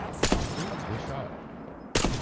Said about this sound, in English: That man's shooting at us.